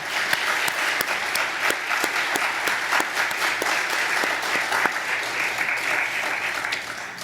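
Congregation at a Wednesday church service gives sustained, even applause, a dense wash of many hands clapping without a break and with no talk over it.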